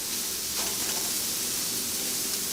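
Scrambled eggs frying in a copper skillet give a steady, dense sizzle and hiss throughout, close and constant, with no voices.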